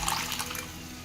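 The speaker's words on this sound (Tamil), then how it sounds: "பருப்பு தண்ணியை விட்டுடலாங்க." Water from cooked dal is poured into an okra soup in a pan, a short soft trickle and splash, fairly faint and close, with no talking.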